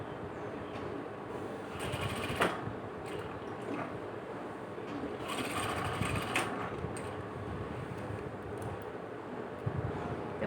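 Sewing machine stitching mermaid-cut fabric, a steady mechanical whirr running throughout with brief louder bursts near the start and middle.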